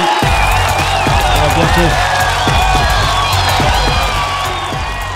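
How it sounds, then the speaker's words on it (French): A round of applause closing an online partners' coordination meeting: dense, continuous clapping from many participants at close range, with a voice speaking briefly over it. "on termine avec un tour d'applaudissements"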